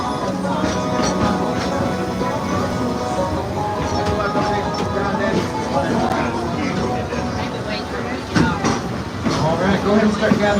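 The Dollywood Express, steam locomotive 192, rolls slowly back into its depot with a steady rumble and rail clatter beneath a conductor's amplified announcement.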